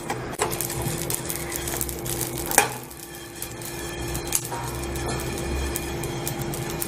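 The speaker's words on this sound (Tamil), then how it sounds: "நல்லா இது மாதிரி வெடிக்கிற சத்தம் கேட்கணும்." Whole spices dry roasting in a pan over low heat, giving a dense, steady scratchy crackle with scattered sharper pops and stirring scrapes, close and moderately loud with a faint background hum.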